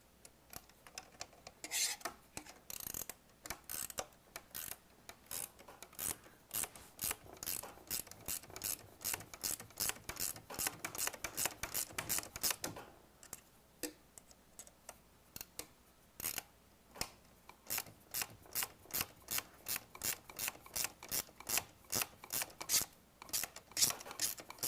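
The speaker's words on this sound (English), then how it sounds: "let's see if we can get the socket at all to work for us here." Socket wrench ratcheting as bolts are tightened on a robot's fuel mechanism, a long run of rapid, crisp clicks in bursts with brief pauses, close up and with no talking.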